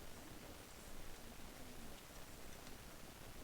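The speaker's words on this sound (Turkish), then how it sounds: "O kaç saattir yağmur yağıyor lan." Steady, faint rain hisses evenly with no pauses during play of the video game Unturned, no voices over it.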